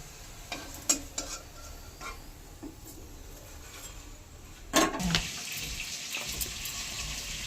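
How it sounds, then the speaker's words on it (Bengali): Stuffed teasel gourds fry in a pan with occasional stirring clatter early on, then a loud hiss as more go into the oil, leaving a steady close sizzle that continues to the end. "একইভাবে সব কাঁকরোলগুলো ভেজে নিলাম।"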